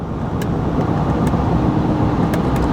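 A 2024 Ford F150 pickup with a 2.7L turbo V6 cruising at highway speed near 75 mph, heard from inside as a steady, loud broadband road and engine rumble with constant tire roar throughout.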